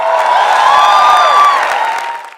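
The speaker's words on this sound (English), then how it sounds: "Can we please have a round of applause for Mr. Sanjay Jha from Congress and Kishore" Audience applause at a panel debate, a steady dense wash of clapping that holds evenly, then fades at the end.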